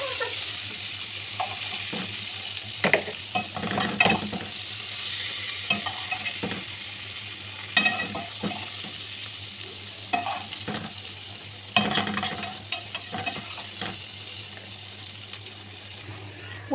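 Sautéed vegetables are stirred in a frying pan over a soft, steady sizzle, with a utensil making repeated scraping and clacking strokes that come in irregular bursts, close up and without speech.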